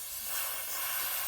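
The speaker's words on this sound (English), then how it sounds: "A little bit of brake cleaner, clean the area up." Brake cleaner hisses from an aerosol can in one short, steady spray onto the fuel line of an old Caterpillar bulldozer. The spray is soft and airy and is heard alone.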